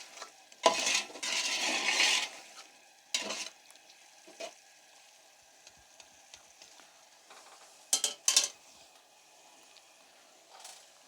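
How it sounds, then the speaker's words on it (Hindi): Beef sizzling and frying in a pot for yakhni pulao, with bursts of loud hissing as the meat is stirred, separated by quiet gaps and a few spoon scrapes. "अभी इसको हम 10 से 15 सेकंड तक तो यहाँ पे थोड़ा सा फ्राई करेंगे"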